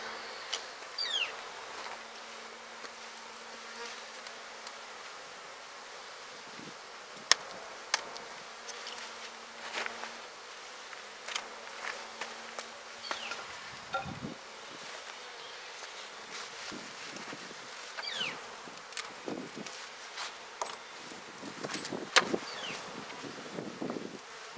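Honeybees buzz steadily around a topbar hive in early spring, a dense humming drone with individual bees zipping past close by, and no talking.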